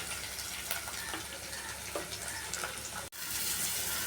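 A spice paste of grated onion, tomato and ground spices frying in oil in a pan makes a steady, moderately quiet sizzle with faint bubbling, cutting out for an instant near the end before resuming.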